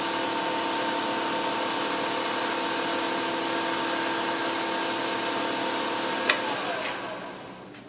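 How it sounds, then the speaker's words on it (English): A wood lathe spins continuously with a steady motor hum while high build friction polish is applied to the turning workpiece, ending with a short sharp tick and the motor winding down. "You need the heat of the lathe to cure the polish."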